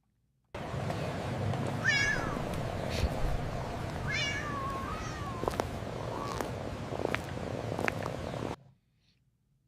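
Cats meow in a computer-generated street scene of a woman carrying a handbag full of cats through an anime-style Tokyo street, a few clear rising meows over a steady murmur of city background noise.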